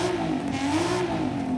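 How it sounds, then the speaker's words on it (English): A Toyota Chaser fitted with a sport exhaust revs in Forza Horizon 5, a loud, continuous engine drone whose pitch climbs and dips slightly, heard on its own without talk. "We've also got the sport exhaust, which makes it sound like this."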